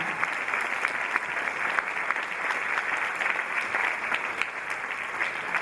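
A crowd at a dance group event applauds, a sustained, loud, dense wash of clapping that stays even throughout with no voices on top.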